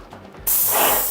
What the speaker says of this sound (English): Now I'm ready to do my test patterns on some cardboard.